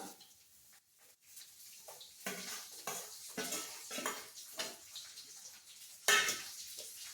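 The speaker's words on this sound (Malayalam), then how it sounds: "ഇനി ഇതിൽ വെളുത്തുള്ളി ഇട്ട് കൊടുക്കാം" Garlic added to hot oil with frying ginger in a pan for Kerala fish pickle, a close sizzle mixed with scraping and clinks of a spoon against the pan as it is stirred, with one sharp metallic clatter near the end.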